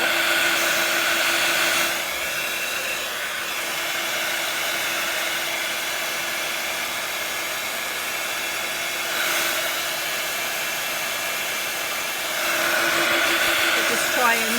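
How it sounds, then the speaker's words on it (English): A heat gun blows steadily on a mixed media canvas, a loud continuous whirring hiss with a steady tone that dips slightly in level mid-way as it moves, with no talk over it. "start my heat gun up."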